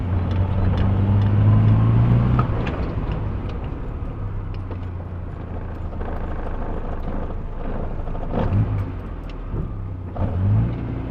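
A Morris Minor engine runs steadily with a loud low drone, swelling near the start, then settling into an uneven idle with faint sputters and small bumps where it seems to misfire.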